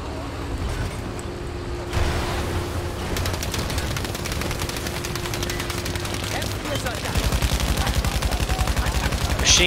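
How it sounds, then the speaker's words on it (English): Machine gun fire in the Battlefield video game, bursts of rapid shots layered over a busy battlefield din with engine rumble, turning into a heavier, faster rattle near the end. "Machine gun!"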